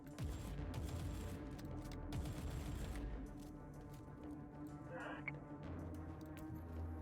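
Bursts of heavy gunfire and booming big guns in a Warhammer 40K video game battle, dense overlapping shots at moderate level with game voices mixed in.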